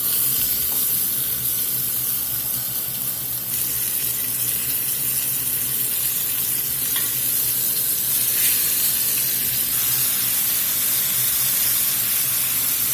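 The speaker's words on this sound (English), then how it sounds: "We're just going to let these sear here a few minutes on this side" Salted beef short ribs searing in oil in a pot over medium-high heat, a loud, steady, hissing sizzle that continues unbroken throughout, with no talking.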